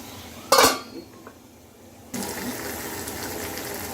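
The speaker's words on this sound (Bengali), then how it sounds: "এরপরে আমি সামান্য পরিমাণ পানি দেবো" A little water poured into a pan of frying spice masala for a potato and dried loitta fish curry, a brief loud splash and sizzle followed by a softer steady hiss.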